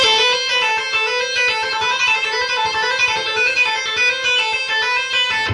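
An electric guitar plays a repeating six-note finger exercise in a steady, even rhythm, each picked note ringing clearly and close, with no talking.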